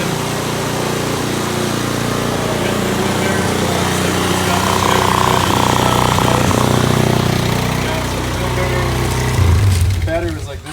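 An ATV engine runs at a steady idle, a loud continuous drone that lasts the whole stretch under people talking.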